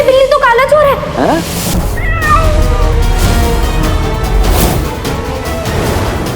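A cat in a Hindi Aladdin fantasy web series meows several times with rising and falling wails early on, then quieter mews over a busy background of voices and music.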